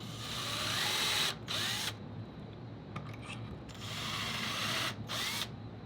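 A power drill bores pilot holes through crown molding clamped in a jig, running in loud, close whirring bursts broken by short pauses, each stop and restart clearly audible.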